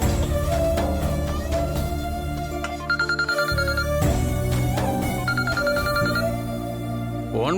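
A phone ringtone plays a repeating melodic tune, loud and close, cycling through its phrase twice with no talk over it.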